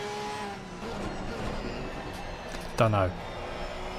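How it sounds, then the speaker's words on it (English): A Porsche race car engine in an Assetto Corsa Competizione race at Brands Hatch drones steadily under talking, with one brief, loud rising gear-change note partway through. "But the Porsche sounds nice"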